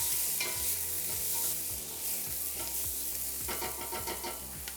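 Onions frying in a pan for a Congolese main course, a steady close sizzle with repeated scraping stirs of a utensil against the pan, no voices.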